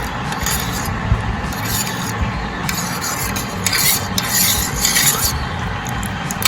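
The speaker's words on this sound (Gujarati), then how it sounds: "એક ટેબલ સ્પૂન ખાંડ એડ કરીશું અને એકદમ સરસ મિક્સ કરી લઈશું" Orange juice is stirred with jaljeera powder and sugar, giving repeated close bursts of spoon scraping and swirling in short, uneven strokes.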